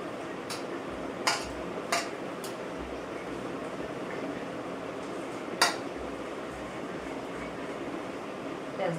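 A spatula clinks now and then against a pan while latia fish curry is stirred in hot oil, the sharp taps spaced irregularly over a steady, hissing sizzle.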